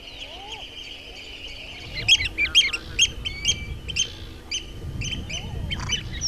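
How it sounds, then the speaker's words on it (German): Soft cooing and crooning calls of common eider ducks on Iceland's north coast rise and fall in a loose chorus, several birds calling near and far over faint background rumble. "Seine Aufmerksamkeit gilt aber mehr den Eiderenten."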